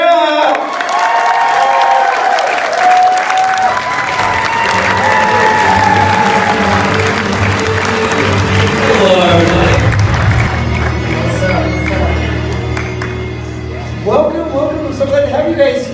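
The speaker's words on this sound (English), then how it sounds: "everybody give a huge round of applause for Chandler and Paola Lázaro." Audience at the Indiana Comic Con 2021 Walking Dead panel applauding and cheering loudly for the guests, a dense, steady wash of clapping with shouts and whoops running the whole time.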